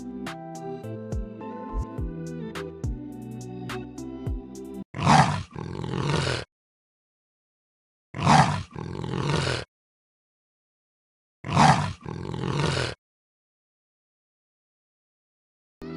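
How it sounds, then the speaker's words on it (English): A leopard gives three separate rough, rasping roars, each a loud burst followed by a breathy drawn-out rasp, spaced by silences, after a short stretch of playful music. "This is a leopard."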